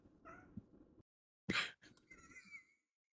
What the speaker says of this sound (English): Is it a cat?